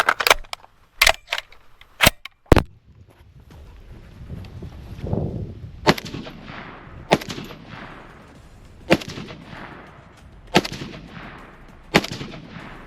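FN SCAR rifle fired at a range, a series of loud sharp single shots in an uneven rhythm with short pauses between them, each one followed by a ringing echo.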